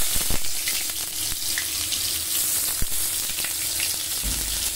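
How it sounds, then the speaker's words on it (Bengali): Gobindobhog rice frying in hot mustard oil, a steady close sizzle that runs throughout, with a few sharp stirring clicks and scrapes. "চালটা একটু ভাজা ভাজা করে নেব।"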